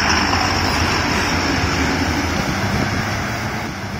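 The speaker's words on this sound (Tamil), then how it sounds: "இன்ஜின் சவுண்ட் சூப்பராக இருக்குங்க கேட்குறக்கே" A loud, steady Ashok Leyland truck engine drone runs without a break on a ghat road near Ooty, a deep rumbling hum with a broad hiss over it and no voices.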